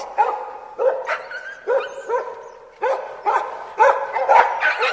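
Several dogs bark in repeated short bursts, close by, with some yips and whimpers mixed in between the barks.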